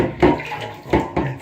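Water splashes and runs in short bursts during a bird's bath, with rinse water poured over it; three louder gushes stand out against a steady trickle close by, with no talk.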